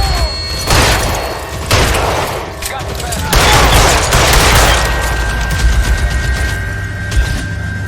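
Dense gunfire bursts in the LA Noire video game shootout, loud and continuous with booming shots and rapid rattling, mixed with shouting voices.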